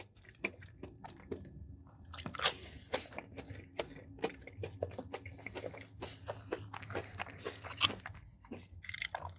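Crunchy bites and chewing of fried pickles with ranch from a Popeyes meal, heard close up as a steady run of crisp crunches and wet mouth sounds, with no talking.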